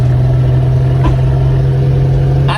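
Exhaust of a red Toyota Land Cruiser with over 350,000 km, a steady low engine drone with a strong low hum, held constant and fairly loud throughout with no talk.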